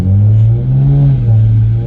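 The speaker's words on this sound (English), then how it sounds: "When I hit the gas, that instant, there's maybe like a split-second delay, and then we start accelerating." A Toyota Supra A90 fitted with a Pedal Commander pulls away under throttle, its engine a loud, steady low drone that rises slightly in pitch, heard close from inside the car with no talking.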